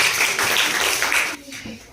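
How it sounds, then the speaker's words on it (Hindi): Students at a school science quiz give a short burst of clapping for a correct answer; the applause is fairly close and dense for just over a second, then cuts off abruptly. "एक बार जोरदार ताली बजा इसके लिए।"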